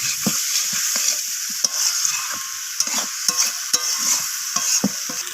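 Vegetarian jackfruit curry is stir-fried in a pan with a soft sizzle while a utensil scrapes and stirs in repeated, uneven strokes close by.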